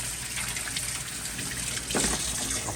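Cold tap water gushes steadily over clams being rinsed, a continuous splashing stream that swells briefly louder near the end, with no voices.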